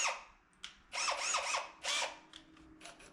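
A power drill drives screws to join boards while refitting a 1940s church's windows, heard as two or three short whirring bursts of rising and falling pitch, fairly close, with small clicks between and no talking.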